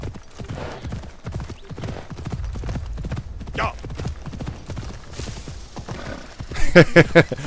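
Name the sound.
horse hooves clip-clop in video game Assassin's Creed Shadows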